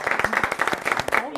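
Audience clapping to welcome Henry, loud and near, with a voice talking over the claps in the short burst.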